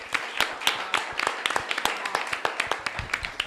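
A small gathering at an evening talk claps for a support crew, giving fairly quiet, scattered and uneven claps with no voices heard.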